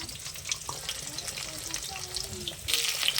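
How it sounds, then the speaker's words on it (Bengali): Sliced onions fry gently in hot oil for a prawn dish, a faint, steady crackle with scattered small pops, growing a little louder near the end, with a voice faintly heard in the background. "এখন পেঁয়াজগুলো আমি দিয়ে দেবো তেলের মধ্যে, দিয়ে হালকা হালকা ভেজে নেব।"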